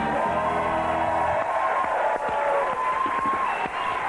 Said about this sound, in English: would you please help me to cheer up the Mir Cosmonauts